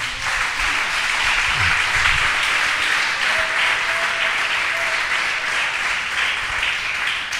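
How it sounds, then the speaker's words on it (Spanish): Church congregation applauding together, a steady dense wash of clapping that holds throughout at an even level, with a few faint voices and a brief tone mixed in beneath. "Démosle un aplauso al Señor."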